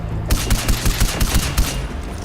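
Gunfire in Far Cry 4 cracks out in a rapid volley of about a dozen loud, close shots packed into under two seconds.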